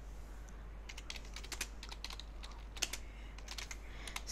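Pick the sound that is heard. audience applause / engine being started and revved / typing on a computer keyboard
typing on a computer keyboard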